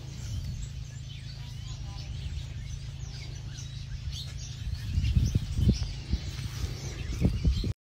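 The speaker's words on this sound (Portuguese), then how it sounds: "A ruma de passarinho cantando ao mesmo tempo" Dense chorus of small birds chirping and twittering together on a farm over a steady low rumble, with a few louder calls and brief noises toward the end.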